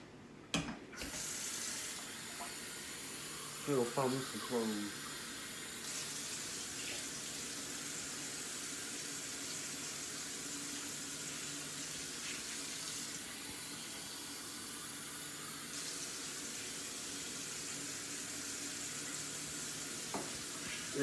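Tap water runs steadily into a pot while chicken cooks in a home kitchen, a continuous broadband rush that lasts throughout with a brief clatter near the start and only a few quiet spoken words.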